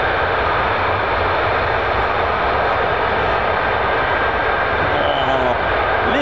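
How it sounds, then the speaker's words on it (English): Loud, steady roar of a military jet with Pratt & Whitney F135 PW100 turbofan engines, a broad continuous rumble sustained throughout, close and powerful. "Oh, listen to these huge turbofans"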